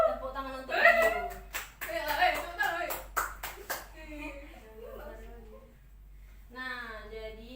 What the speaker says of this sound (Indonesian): Tepuk tangan untuk Gio.